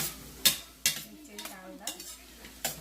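Egg bhurji stirred in a pan, with a handful of scattered scrapes and taps of a utensil over a faint sizzle, fairly quiet and close.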